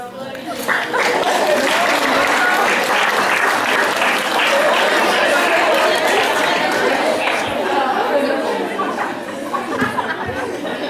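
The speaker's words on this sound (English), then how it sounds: "Let's give one more round of applause." Sustained applause at a high school soccer team banquet, a full room clapping steadily and loudly for about eleven seconds while guests chatter and chuckle underneath.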